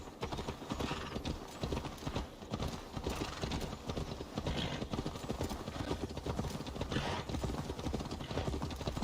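Horse hooves clip-clop steadily at a riding pace in Assassin's Creed Valhalla, a continuous dense rhythm that stays close and fairly loud, with an occasional whinny and game ambience underneath.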